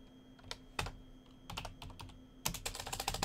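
Bursts of typing on a computer keyboard, with quick clustered keystrokes in three separate runs against a quiet room hum, close and fairly soft.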